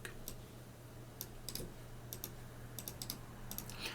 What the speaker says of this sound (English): We will type the following.